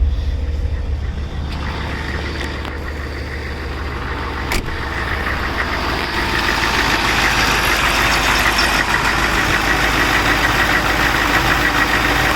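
Cadillac with a swapped diesel engine running at high idle, a loud, steady rumble with knocking undertones and a sharp click partway through, continuing without pause.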